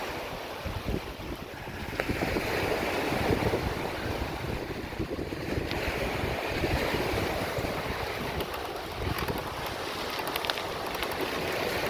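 Ocean waves roll and wash onto a Sanibel Island beach in Florida, a steady moderate surf wash buffeted by wind noise on the microphone, with no talking.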